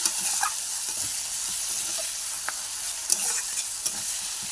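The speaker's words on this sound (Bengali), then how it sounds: "দেখো মশলা কষা হয়ে গেছে, কষছি" A soft, steady sizzle of spice paste being stir-fried in a pan, punctuated by a few faint scraping stirs, fairly quiet and close.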